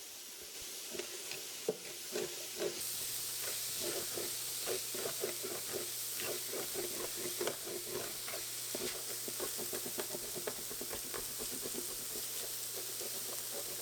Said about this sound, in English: I'm gonna scrape and mix and scrape and mix until I get all that flavor off the bottom of that skillet